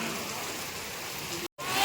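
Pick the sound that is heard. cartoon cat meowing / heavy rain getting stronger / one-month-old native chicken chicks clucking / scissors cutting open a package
heavy rain getting stronger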